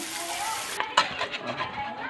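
Crackling sizzle of an egg frying in hot oil, close and steady, with a sharp clink partway through and a brief murmur of voice.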